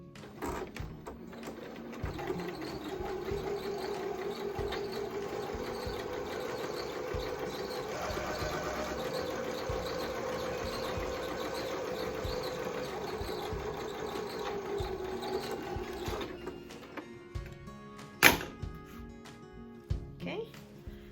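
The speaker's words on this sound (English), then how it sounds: "I'm just gonna sew this bit" A sewing machine stitches a fabric face mask in one long, steady whirring run before slowing and stopping, followed by a few sharp clicks and handling sounds close by.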